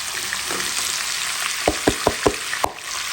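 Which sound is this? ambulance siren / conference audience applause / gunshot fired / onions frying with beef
onions frying with beef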